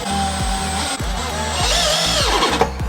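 A power drill driving screws into decking timber planter legs, a loud close motor whine with repeated revving pulses, the pitch dropping as each screw bites.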